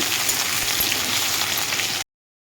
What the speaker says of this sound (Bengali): সর্ষের তেল টুকরো করে নিয়েছি আলুটাকে ভেজে নেব প্রথমে লাল করে ভেজে নেব